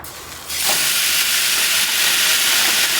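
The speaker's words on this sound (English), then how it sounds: "look at that sizzle" Beef fajita strips hitting a hot new Saber Cast 500 grill, bursting into a loud, steady sizzle that starts abruptly and keeps hissing close up, with no voices.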